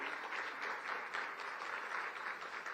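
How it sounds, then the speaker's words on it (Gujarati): An audience at a gathering with Gujarat's chief minister in Ahmedabad breaks into brief, steady applause, moderately distant and even in intensity. "આવો ખૂબ તાળીઓ સાથે સ્વાગત કરીએ ગુજરાતના માનનીય મુખ્યમંત્રી શ્રી ભૂપેન્દ્રભાઈ પટેલનું."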